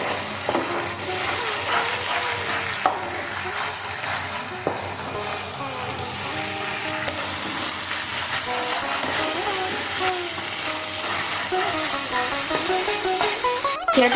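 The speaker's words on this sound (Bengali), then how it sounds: "এবার এটা ভালো করে কষিয়ে নেব।" Chicken masala with a spoonful of soy sauce sautés in a pan for golmorich (black pepper) chicken, a loud continuous sizzle broken by scraping stirs of a spatula, close and steady throughout.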